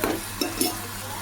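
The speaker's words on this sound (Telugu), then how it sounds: "టమాటోలు కాకరకాయ ముక్కలు కలిపేయండి ఇలాగా." Tomatoes and bitter gourd pieces get stirred in a sizzling pan, with a few close spatula scrapes over a steady frying hiss.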